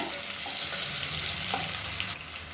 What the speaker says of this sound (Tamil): இப்போ இது எல்லாமே பொரியுது